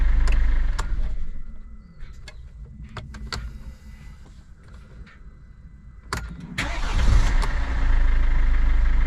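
A Mercedes Vito W639 van's OM651 diesel engine cranks and starts, settling into a loud, steady idle with no rattle, after clicks and interior clunks in a quiet cabin.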